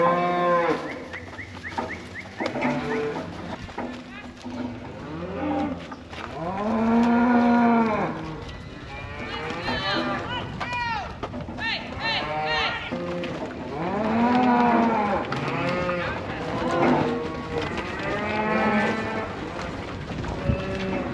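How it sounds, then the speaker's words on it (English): Cattle moo repeatedly in a pen on a pre-calving work day, several loud, drawn-out calls overlapping from nearby animals through most of the stretch, with little talk. "So anyways, got the cows in."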